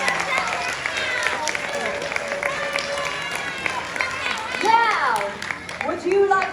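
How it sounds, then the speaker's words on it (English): An audience claps at a live liquid nitrogen science show. The applause is moderate and mixed with crowd murmur and a presenter's voice, and rises toward the end. "Big round of applause."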